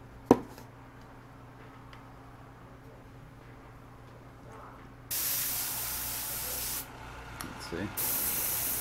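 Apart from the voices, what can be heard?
airbrush spraying paint on a model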